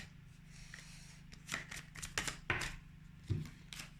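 Tarot cards are shuffled and drawn by hand in quiet, crisp bursts of riffling and flicking, with a few soft slaps as a card is laid down.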